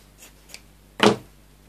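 Scissors making a single crisp cut through folded material for a snowman wreath hat, preceded by two faint rustles of the material being handled.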